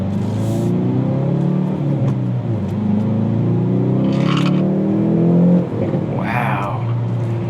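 A 2019 Hyundai Veloster N accelerates hard on a back road, its engine note climbing through the revs with a steady loud rumble, heard from inside the car, then dipping briefly as if shifting.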